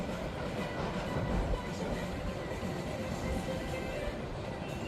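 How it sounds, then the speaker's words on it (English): An empty roller coaster test train rumbles steadily through the station at an amusement park, a continuous close clatter and roar with no gaps. "They're running a tester train now, so we stood here long enough to catch one."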